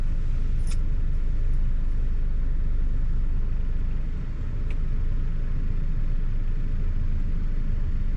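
A Honda City engine with the clutch being released, a steady low rumble and hum that runs unbroken and fairly loud from start to finish.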